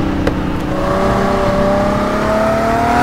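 Opel Commodore retro racing car in RACE 07 at the Adria GP circuit, its engine droning continuously at high revs with pitch slowly climbing under acceleration, loud and close with no talk.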